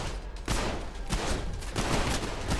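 Dense, rapid gunfire in the gory shooter video game Trepang2, a loud run of overlapping shots and impacts rolling without a break.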